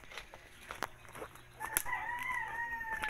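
A young dove's drawn-out, wavering call rises faintly after a few soft taps and rustles, quiet and fairly close with no voices.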